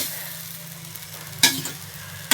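Maggi noodles being stirred in a hot pan, a steady low sizzle with two sharp scraping clanks of the spoon against the pan, close and without talk.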